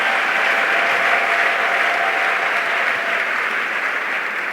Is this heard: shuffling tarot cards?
no